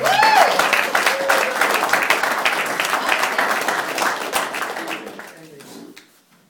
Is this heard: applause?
yes